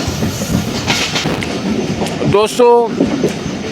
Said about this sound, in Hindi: ट्रेन हमारी कोटडालू रेलवे स्टेशन से निकली है अभी